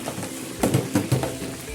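Chicken wings fry in oil over a low to medium flame, giving a soft bubbling sizzle with a few louder spits toward the middle.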